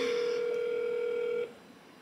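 A steady electronic phone ringback tone holds as a single sustained pitch during an outgoing call, fairly quiet and close, then cuts off abruptly partway through, leaving faint room noise.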